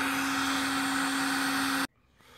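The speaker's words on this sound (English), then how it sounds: "Now I've got a hairdryer blowing in." A hairdryer roars steadily nearby with a motor whine, then cuts off abruptly near the end, leaving quiet room noise.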